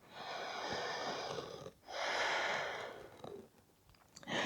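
A deep yoga breath: a long, steady airy inhale-exhale rush, a brief pause, then a second full breath trailing off, close and alone.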